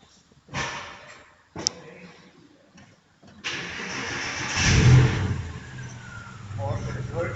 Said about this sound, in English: Right now we will start the Porsche. It's a Boxster from 2006